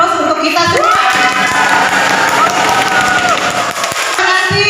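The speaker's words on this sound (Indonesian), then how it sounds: "Beri aplaus untuk kita semua." Applause at the close of a teacher-candidate presentation for a Guru Penggerak training programme, a dense, steady clatter of many hands filling the room for several seconds, with cheering voices mixed in.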